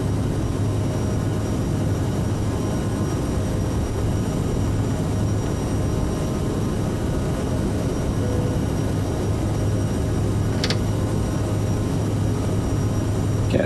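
Aerosoft CRJ900 jet engines at takeoff thrust in Microsoft Flight Simulator 2020, departing Durban King Shaka, a steady loud roar with a low hum, continuous and unbroken throughout, with no talk over it.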